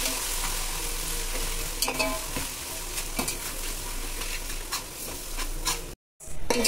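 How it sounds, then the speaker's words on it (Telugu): Ginger garlic paste fries in a pan for chicken biryani, giving a steady, dense sizzle throughout with occasional light stirring clicks and a brief dropout near the end. "ఇది పచ్చి వాసన పోయేదాకా మనము ఫ్రై చేసుకోవాలి."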